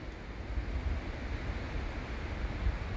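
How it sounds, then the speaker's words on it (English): Strong wind blowing steadily across a microphone outdoors on a hike near a natural bridge, a continuous low rumbling roar with gusty swells and no voices. "Still hear that wind. Man, that's blowing."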